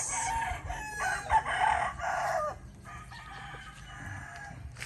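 A rooster crows loudly nearby among Bulik hens at a gamefarm, with clucking and other fowl calls around it and a quieter stretch of farmyard noise afterwards.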